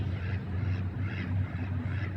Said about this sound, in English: You can see the ducks over there.